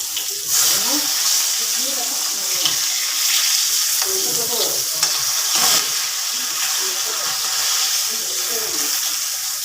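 Fish frying in a pan on a gas stove over a very low flame, a constant broad sizzle with soft stirring scrapes close by, while a voice is faintly present in the background.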